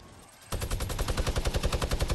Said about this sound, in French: Ça tire, c'est qui? C'est Gavin qui tire.